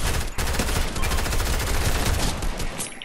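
Loud, rapid bursts of gunfire in the video game Fortnite, close and nearly unbroken, with a short gap near the start before the firing resumes.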